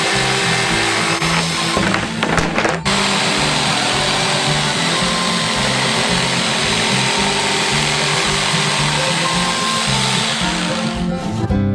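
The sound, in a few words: electric jigsaw cutting out a shape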